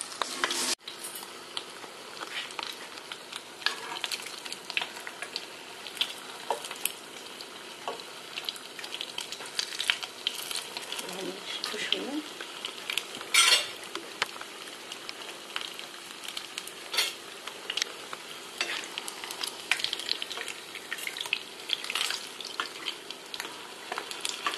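Bread slices fry in a small pan for a sandwich-loaf snack with cold cuts, giving a continuous close sizzle with crackling pops and occasional light utensil clicks, and no talking.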